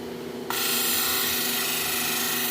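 A stone polishing machine kicks on, working a piece of feldspar with 800 grit: an abrupt start to a steady, loud, even grinding hiss with a constant motor hum, running without a break.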